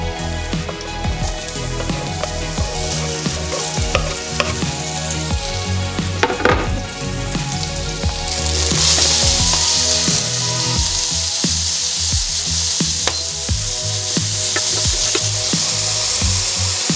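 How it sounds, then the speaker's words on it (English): Carrots, chili and mango frying in a little cooking oil in a pan over medium heat, a loud continuous sizzle that swells brighter midway, with occasional clatter from stirring and music playing underneath. "Pan on medium heat, a little cooking oil, carrots, chili and mango in."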